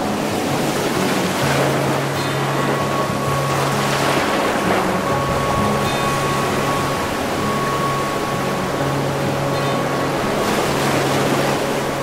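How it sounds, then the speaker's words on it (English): Ocean waves wash and roar continuously off the coast of Kenting, Taiwan, with a steady rushing surge and a low hum running underneath. "the frothy green waves of the sea."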